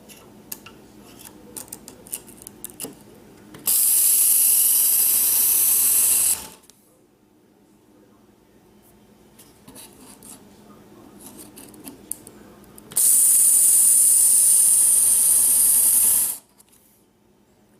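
Work Sharp belt knife sharpener grinding a knife blade: two bursts of loud, steady high-pitched whirring about three seconds each, separated by quieter pauses with small handling clicks.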